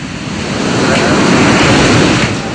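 Loud, continuous roar of 7-8 metre storm surge waves from Super Typhoon Haiyan crashing in the Philippines in 2013, with heavy wind buffeting the microphone throughout.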